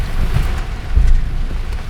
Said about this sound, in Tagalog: Buhos pa ng ulan